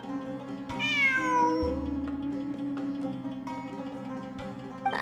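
A cat meows in the video game Genshin Impact: one drawn-out, falling meow, close and clear, over a steady game ambience and music bed.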